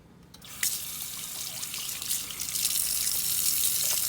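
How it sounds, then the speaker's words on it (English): Tap water gushes into a kitchen sink, rinsing out a baking soda cleaner, starting abruptly and building into a loud, steady splashing rush close by. "let's rinse this out and see how my sink looks after we rinse"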